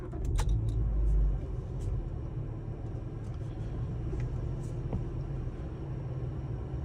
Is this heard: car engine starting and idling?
yes